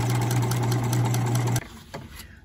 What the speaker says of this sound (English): I want to take this to the sewing machine, and up here at my fold, I want to do a 1/8 inch top stitch